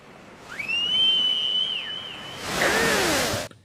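A single sustained whistle with slight pitch bends rings out clearly, followed by a broad rushing swoosh that cuts off abruptly.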